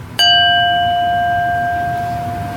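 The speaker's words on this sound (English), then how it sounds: "So I have here a wine glass, and if I hit it," A wine glass is struck once and rings out with a clear, pure tone that sustains and fades slowly, loud and close, with no talking over it.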